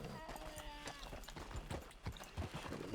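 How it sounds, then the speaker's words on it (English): Sheep bleating in the Dune game with House Harkonnen, short cries repeating over a steady game soundscape while someone talks across it. "That's a sheep, yeah."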